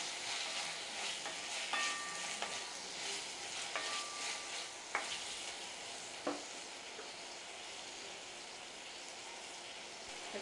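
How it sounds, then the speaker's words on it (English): Chopped tomato cooks and sizzles in a pan for keema pav, a steady soft frying hiss with a few light scrapes and taps of a spoon stirring, no voices. "Then add this tomato. Cook this till it is completely mashed."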